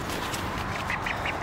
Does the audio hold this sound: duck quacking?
yes